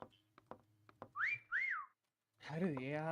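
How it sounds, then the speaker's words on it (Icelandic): A loud pair of rising-and-falling whistle tones in a video game, heard up close, after a few clicks and before a stretch of talking. "Bara láttu vita að flautið heyrist mjög hátt þegar"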